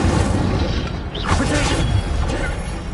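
Incendio fire spell cast in the game Hogwarts Legacy: a dense burst of crackling, whooshing impact noise, loud and close, with a sweeping flare in the middle and continuous rumbling underneath.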